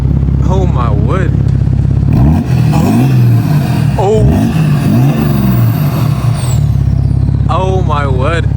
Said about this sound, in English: It sounds like a diesel. Nah, is it a diesel? 330D.